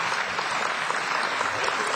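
A debate audience applauds in a steady, fairly loud wash of clapping that lasts the whole moment.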